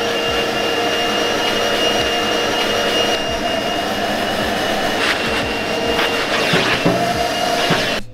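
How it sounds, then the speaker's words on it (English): Wet vac extracting cleaner from camper carpet and upholstery, a loud continuous suction roar throughout with occasional gurgling and slurping surges as the nozzle passes over the wet fabric. "Now we're going to use the wet vac and now we're going to see what results you get."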